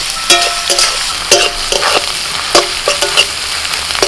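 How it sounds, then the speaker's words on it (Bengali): Chopped onions, half-fried in a pan for chicken, crackle with a steady, close sizzle, broken by repeated scraping and clinking as a spoon stirs them. No voices are heard. "পেঁয়াজটা এরকম অর্ধেক ভাজা হবে"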